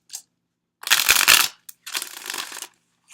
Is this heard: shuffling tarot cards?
yes